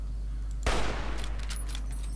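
A single gunshot from the video game Fallout: New Vegas: one sharp, loud blast with a short, rough decay and no talk over it.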